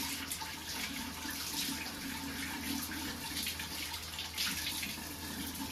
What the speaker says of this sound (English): Give it a quick little rinse.